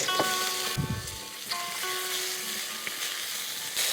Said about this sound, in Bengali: তা আলুর সাথেই পেঁপেটাও আমি দিয়ে দিচ্ছি